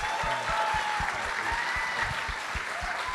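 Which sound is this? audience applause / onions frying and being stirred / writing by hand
audience applause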